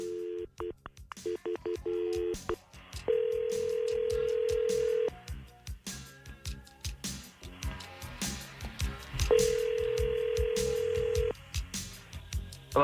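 Telephone ringing on an outgoing call, steady electronic ring tones repeating in long bursts with a pause between, mixed with background music and studio noise on a live radio show.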